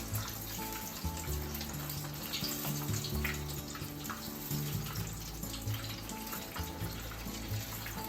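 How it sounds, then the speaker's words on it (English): Tofu pieces fry in a pan with a steady, close sizzle and crackle that carries unbroken through the whole stretch, with no talking. "fry them for 1 to 2 minutes on each side"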